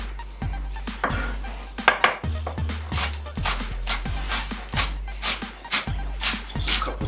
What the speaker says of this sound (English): Just a couple chops for that bad boy leek right there.